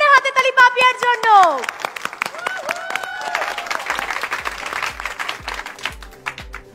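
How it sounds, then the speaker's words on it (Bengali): A studio audience at a Bengali singing competition applauds the contestant Papiya, a burst of clapping mixed with a swelling musical sting and sound effects, followed by rhythmic backing music. "এটা জোরে হাতে তালি পাপিয়ার জন্য।"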